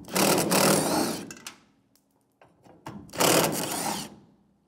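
A 1/4-inch (7mm) socket spins out the three fuel filler mounting screws on a 1992-1996 Ford F-150, giving two loud sustained bursts of ratcheting, buzzing tool noise separated by a brief quiet pause.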